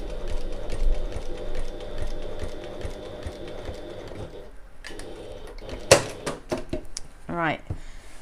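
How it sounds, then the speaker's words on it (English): A domestic sewing machine stitching a fabric bag runs in short bursts of rapid mechanical clatter, close by, pausing before a few quicker stitching runs near the end. "as I stitch I'm avoiding that stopper"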